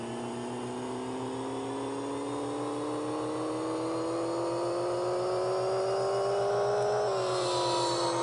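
Car engine in Pixel Car Racer, a naturally aspirated 1JZ of about 330 horsepower, revs steadily upward on a dyno for several seconds, the loud continuous whine rising in pitch before a brief dip near the end.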